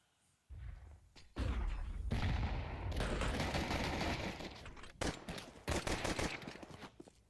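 Dual Berettas fire in Counter-Strike at a professional esports match, rapid pistol shots bursting in a fast flurry, then broken volleys and single cracks echoing through the game mix.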